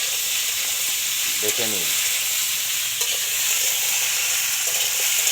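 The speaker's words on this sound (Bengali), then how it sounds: "ডাইরেক্ট চচ্চড়ি হচ্ছে আমাদের একদম কাঠের উনুনে তৈরি হচ্ছে, কাঠের জালে।" Pumpkin greens chorchori being stirred and fried in a pan over a wood-fired stove, with a steady loud sizzle and a few scraping stirs of the spatula; someone briefly speaks over the cooking.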